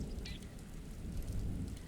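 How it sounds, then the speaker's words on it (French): Rainstorm in the survival game 7 Days to Die: a soft, steady hiss of falling rain with a low rumbling undertone, fairly quiet and continuous throughout, with no voices. "Il va y avoir une tempête."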